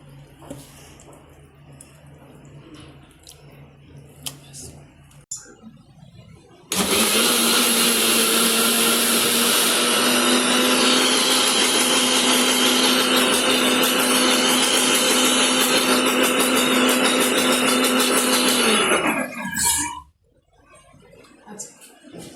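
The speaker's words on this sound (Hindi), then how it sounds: "इस बार हमने मिक्सर से ही निकाला है, मिक्सर से सही है, जल्दी भी हो जाता है।" A kitchen mixer churns cream into butter, starting abruptly with a loud, steady whir that runs for about thirteen seconds and then cuts off, with quieter room sounds before and after.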